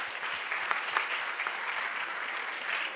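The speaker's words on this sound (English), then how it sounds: "Can we have a huge round of applause for Sir?" An audience at a discussion on India–Estonia relations gives a guest speaker a round of applause, a dense, even wash of clapping from a sizeable crowd, steady throughout and close.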